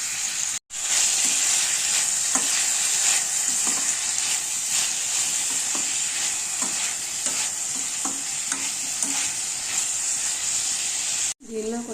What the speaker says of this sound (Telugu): కొంచెం సాల్ట్ వేసుకొని ఆనియన్స్ బాగా ఫ్రై చేసుకోవాలి.